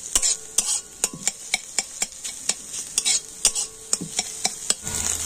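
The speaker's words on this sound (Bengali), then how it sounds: "ডিমগুলোকে খুন্তিতে এইভাবে কেটে কেটে আমি একদম ঝুড়ো ঝুড়ো করে নেব" Egg scrambling in a little oil as a spatula chops and scrapes it against the pan, a rapid series of sharp metallic taps and scrapes over a light sizzle, close up and without speech.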